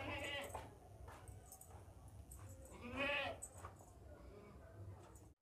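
Young goats bleating at a livestock market, several harmonic cries rising over steady crowd chatter and background noise, with a louder, longer bleat near the middle.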